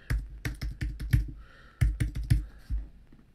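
Fingers tap out an email address on a computer keyboard in quick bursts of crisp clicks, a short run of keystrokes, a brief pause, then another flurry, close and clear.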